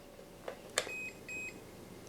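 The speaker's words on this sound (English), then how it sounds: "Listen to the beep." A couple of soft clicks, then two short, high electronic beeps in quick succession as a radio transmitter binds to an Inductrix FPV micro drone, clear against a quiet background.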